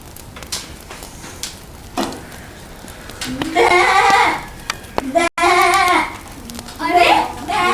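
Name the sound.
sheep bleating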